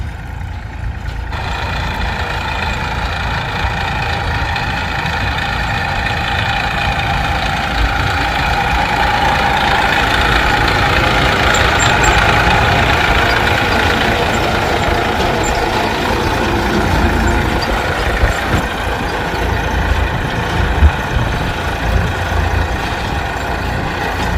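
A GPS-guided tractor runs steadily nearby in a village field, a loud continuous diesel rumble with a faint mechanical whine that never lets up.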